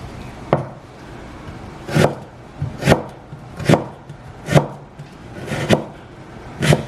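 A knife chopping half a carrot into small pieces on a cutting board, with eight or so sharp, close chops coming at a slow, irregular pace.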